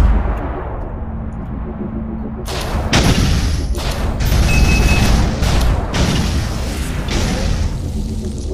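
Homing missiles launch and burst in an online deathmatch against bots in Retrovirus, a run of loud, dense booms and blasts that stack up close together after a quieter opening.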